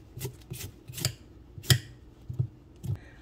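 A cucumber is peeled by hand in a kitchen, a series of short scraping strokes at an uneven rhythm, about seven in a row, close and quiet.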